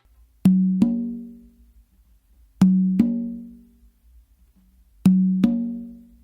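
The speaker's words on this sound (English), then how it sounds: "do an open on that tumba. So it's gonna sound like this." Three pairs of ringing open tones on a tumba conga, each a sharp open stroke followed quickly by a second, evenly spaced with resonant decays and silence between.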